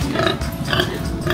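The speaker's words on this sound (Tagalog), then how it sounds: "Eto may baboy dito." A pig or piglet grunts on a farm, a short run of close, low, rough grunts and snorts, moderately loud and without speech.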